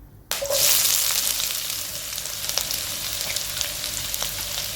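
Chopped onions dropped into a hot pan with whole spices, a sudden loud sizzle that settles into a steady close frying hiss with faint stirring scrapes.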